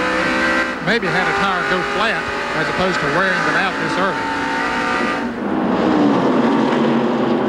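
1989 Winston Cup stock car at the Transouth 500 accelerating back into traffic after a pit stop, its engine climbing through rapid gear-shift sweeps, loud and close under a commentator's voice.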